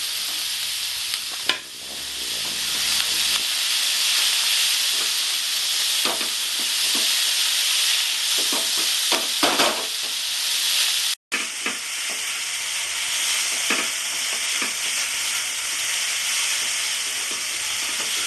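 Potatoes, peas and peanuts frying in a pan as cauliflower singara filling, a steady close sizzle and hiss with scattered stirring scrapes and clinks, briefly cut about midway.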